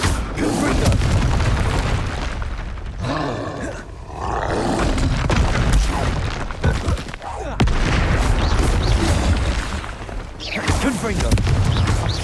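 Confringo blasting spell explosions in Hogwarts Legacy combat on hard mode, with heavy booming roars and rumbling blasts repeating over about twelve seconds, loud and dense, with brief lulls between bursts.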